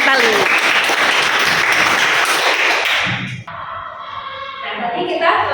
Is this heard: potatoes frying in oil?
no